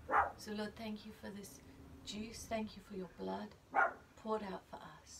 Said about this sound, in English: Sorry about my dog barking just then.